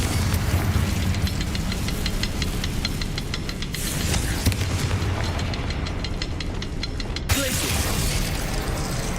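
A Confringo spell explosion in the game Hogwarts Legacy: loud, dense booming and crackling blasts filling the whole stretch, with rapid pulsing bursts, a brief dip, then a sharp renewed blast.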